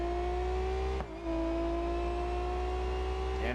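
A Formula 4 race car in BeamNG.drive, heard on board, holds a loud, steady high engine whine that briefly dips at a gear change before climbing again.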